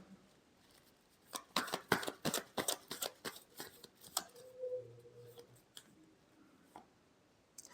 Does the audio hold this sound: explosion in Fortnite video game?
no